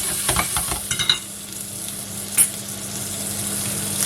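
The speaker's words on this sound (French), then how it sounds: "Donc là, ça chauffe et on met les crevettes." Shrimp for soy sauce noodles hit a hot pan and fry with a bright, steady sizzle, with a few quick stirring scrapes and clatters early on, close and continuous.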